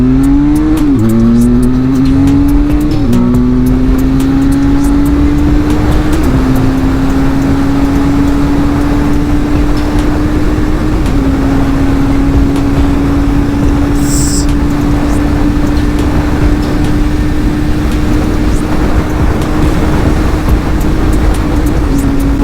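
A Benelli 502C motorcycle engine revs hard and climbs steadily through the gears, loud and close throughout with a steady high-pitched drone and brief drops at each shift.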